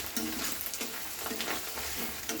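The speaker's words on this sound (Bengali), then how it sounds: "এইভাবে নাড়িয়ে নিতে হবে" Egg curry sizzles and fries in a pan while a spoon stirs it, giving soft steady crackling with repeated scraping strokes, close but fairly quiet.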